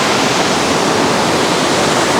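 Elephant Falls in Dalat, Vietnam roars as a loud, steady, unbroken rush of falling water filling the whole scene with dense broadband noise.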